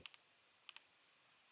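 A computer keyboard clicks during a cyber-operations terminal session: two quick pairs of light, close key taps, then a firmer press of the Enter key, all in quiet with no voices.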